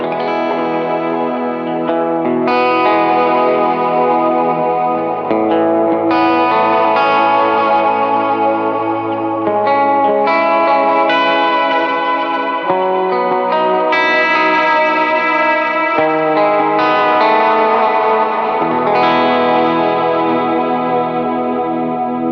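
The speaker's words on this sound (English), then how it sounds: "If I want a more of a vibrato sound, these are what my settings will look like. So I'll go ahead and engage it and let you hear what it sounds like." Electric guitar played through an effects pedal set to vibrato, from a pedalboard setup, giving sustained warbling chords and notes that swell in pitch, loud and continuous with no talking.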